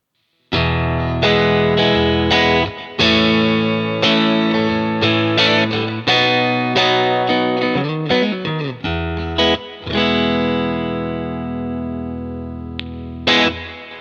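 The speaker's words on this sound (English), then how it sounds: "It's got a little bit of reverb, but it's pretty clean." An electric guitar, toned through Ableton Live and Bias FX, plays clean with a little reverb: a run of picked notes and chords rings out alone, close and steady, with each note decaying smoothly into the next.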